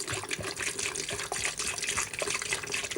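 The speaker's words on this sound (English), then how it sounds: "Just pour it in to cover the element" Cheap vinegar poured into a furred-up electric kettle to cover the heating element, a close, quiet, continuous trickling and splashing of liquid.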